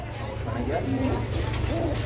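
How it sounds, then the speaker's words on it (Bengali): A female racer pigeon with pipe-coloured plumage coos softly in low repeated phrases, close by over a steady hum of background noise and nearby voices. "এটা হচ্ছে বন্ধুরা পাইপ কালারের রেসার কবুতরের মাদি।"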